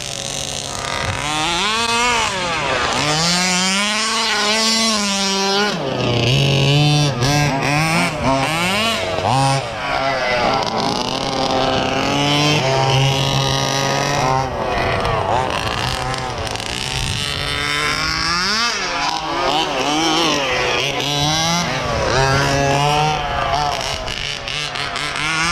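A Rovan Baja gas-powered RC car's small two-stroke engine buzzes loudly and continuously outdoors, revving up and down repeatedly in high-pitched surges while towing.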